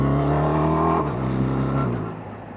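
A BMW R1300RT motorcycle pulls hard in second gear up a very steep hill, its engine a loud, steady drone with harmonic tones that shift at about one second, holding strong before easing off near the end.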